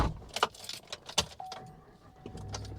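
Keys jangle and clink in several quick bursts while someone gets into a pickup truck, followed by a faint electronic chime tone and soft rustling, all fairly quiet and close.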